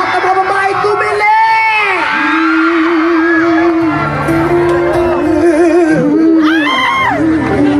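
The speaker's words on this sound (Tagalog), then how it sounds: "Lahat ng mga babae, tumili!" A crowd of women screams and cheers loudly at a live show awaiting a singer, with high, sustained shrieks and whoops rising and falling throughout as one continuous roar.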